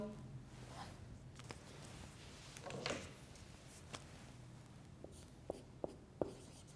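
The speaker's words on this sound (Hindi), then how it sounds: "मैं लिख भी रहा हूं" Marker or chalk writing on a board during an English grammar lesson, scratchy strokes under a low room hum, ending in a few sharp taps, no talking.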